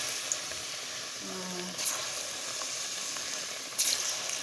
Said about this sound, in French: je commence la friture des bananes